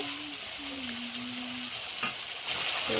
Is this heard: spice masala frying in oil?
yes